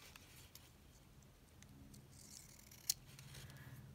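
Scissors cutting paper ephemera up close, faint soft snips and rustles with one crisp sharp click near the end, quiet against a low background hum.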